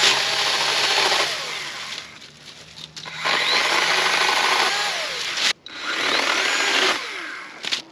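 A Kobalt pole saw cuts through tree limbs in long, steady rasping runs of a few seconds each, broken by short pauses and a sharp crack or knock, heard loud and close outdoors with no talking.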